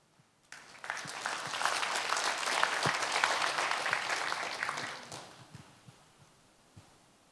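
An audience at a Korean poetry-recitation stage event breaks into applause, a dense burst of clapping that swells quickly, holds steady for several seconds, then fades out into a few scattered claps and quiet.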